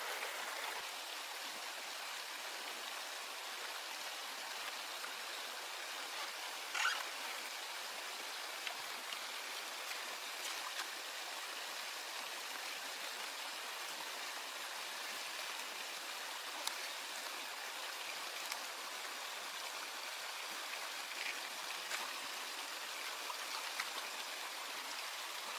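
A river stream flows in a steady, even wash of running water, faint and continuous throughout, with occasional small splashes and drips.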